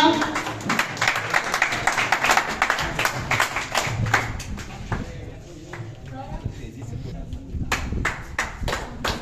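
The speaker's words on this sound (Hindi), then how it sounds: "तालियां" Audience at an award ceremony clapping in uneven bursts, louder at the start, thinning in the middle and swelling again near the end, with voices talking over it.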